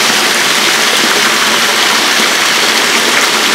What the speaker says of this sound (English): I can hear that water flowing over there at the area where it flows out.